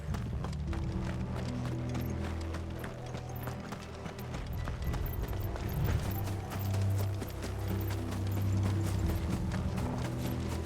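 Horse hooves clop in a steady rhythm alongside mechanical creaking and rattling in the video game Final Fantasy 16, with a low rumbling background throughout.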